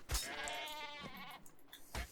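Sheep bleats from ARK Ascended, a wavering harmonic bleat near the start followed by shorter calls, moderately close and clear with no talking.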